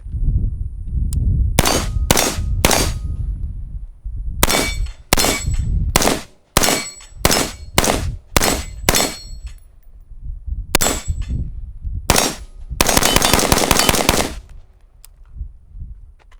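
A budget AR-15 rifle with a muzzle brake firing outdoors, loud sharp gunshots in irregular bursts and quick strings, each with a ringing tail, and short pauses between groups.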